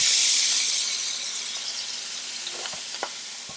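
Shrimp sizzles in a single pan in the seasoned juices left from cooked sausage, a bright frying hiss that starts loud and slowly eases, with a couple of faint clicks near the end.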